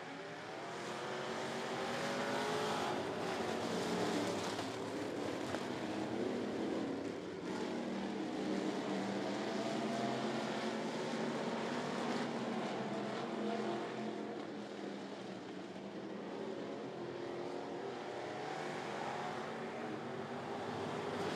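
Four race cars roar off at a green flag start at Volunteer Speedway, a dense continuous engine drone with layered revving that stays loud and steady throughout, with no talk over it.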